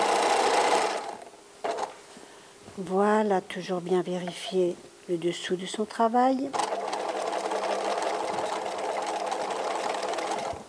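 A sewing machine stitches a fabric gift bag, a steady mechanical whir running at the start and again through the second half, with someone talking over the quieter middle stretch.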